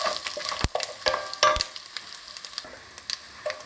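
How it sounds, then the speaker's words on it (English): Whole spices such as bay leaf, asafoetida, cumin and cloves fry in hot oil, giving a soft sizzle broken by sharp, irregular pops and crackles close by. "Just fry it."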